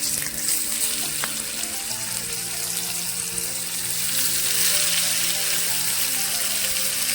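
Tomatoes go into sizzling oil already seasoned with cumin and turmeric, giving a loud, even hiss that holds steady throughout, with a faint watery undertone, while palak mysore dal curry is being cooked.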